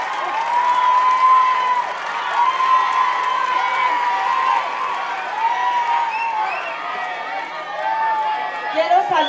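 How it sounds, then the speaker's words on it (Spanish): A crowd of neighbors at a community meeting in Colonia Desarrollo Urbano, Álvaro Obregón, claps and cheers for Leonel, with a steady wash of applause and raised voices that continues for several seconds. "Un aplauso para Leonel"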